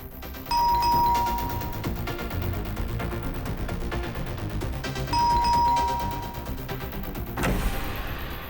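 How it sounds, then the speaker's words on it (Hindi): A doorbell chimes twice in a row, loud and ringing out over a low, dense rumble of party music playing nearby, with no talking. "कितना घंटी बजाते हो?"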